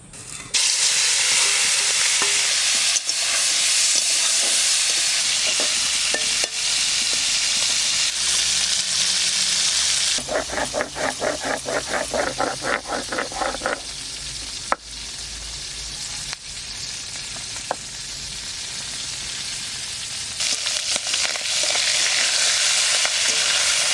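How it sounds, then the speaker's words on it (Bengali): Singhi catfish fries in plenty of hot oil in a wok, giving a loud, continuous sizzling hiss that briefly turns to crackling, bubbling spatter midway before the steady sizzle returns. "মাছেতে প্রচুর তেল, তার জন্য এত ফুটছে।"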